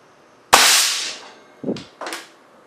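An air cannon fires a AAA battery at a small radio: one sharp, loud blast that trails off, then two quicker, softer knocks as the battery strikes and the target rattles, with no talk.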